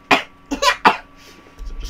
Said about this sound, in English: So just clearing my throat.